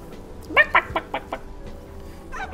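Chicken clucking in the Fortnite video game, a few quick sharp clucks close together near the start, then quieter faint bird chatter.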